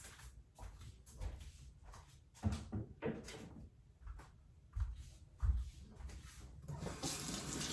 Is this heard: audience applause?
no